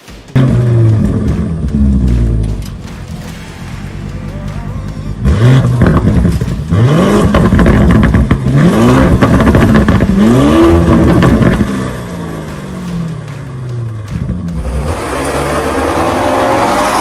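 A Lamborghini Urus with its 4-liter twin-turbo V8 roars loudly through repeated revs, pitch sweeping up and falling back in rising waves, ending in a steady close engine drone.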